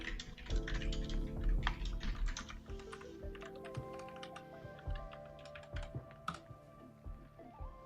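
Password being typed on a computer keyboard, a rapid, uneven run of close, quiet key clicks and taps continuing for several seconds with no talk.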